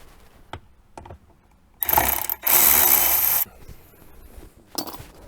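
Ratchet turning out dashboard screws on a 2011–2018 JK Jeep Wrangler, a few faint clicks followed by two loud bursts of rapid ratcheting up close, then a short final burst.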